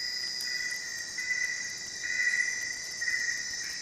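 Grasshopper chirping among red leaf-cutter ants, a continuous high buzzing trill with slight swells, steady and fairly loud, no voices.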